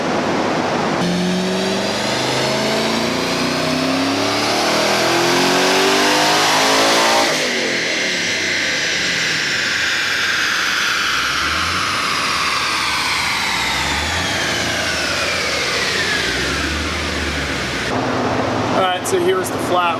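Twin-turbo fifth-generation Camaro engine revving hard on a dyno pull, a loud continuous roar rising and falling in pitch with turbo whine, close and dominant across the whole stretch.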